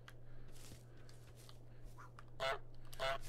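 Goose honking in the video game Untitled Goose Game: two short, nasal honks near the end of the clip, fairly loud against a faint background hum, with softer game sounds before them.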